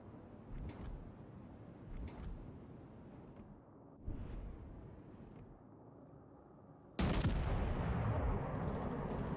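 Heavy naval gun salvos fire in a World of Warships naval battle, several deep booms with rumbling tails, the loudest and nearest blast landing near the end.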